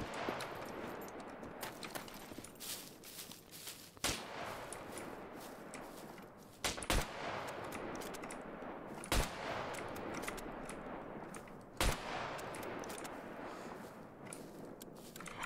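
Gunfire in the multiplayer survival game SCUM, faint and distant, with several sharp separate shots spaced across a long stretch against a quiet rustling background.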